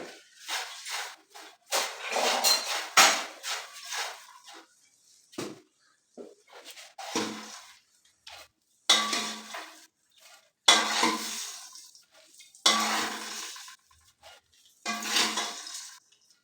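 A metal spoon scrapes and scoops popcorn out of a pressure cooker into a dish, making loud close bursts of rattling and scraping with short quiet gaps between scoops.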